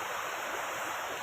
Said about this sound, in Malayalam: എങ്ങനെയുണ്ട് പഴയ നമ്മുടെ വെള്ളച്ചാട്ടം?